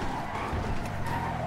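Tires skid and squeal as a car takes off in the GTA V video game, a steady, fairly loud screech with engine noise beneath, lasting the whole short moment.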